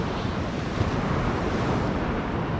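Sea waves on the Yorkshire coast crash and wash in a loud, continuous roar mixed with buffeting wind noise on the microphone, with no voices.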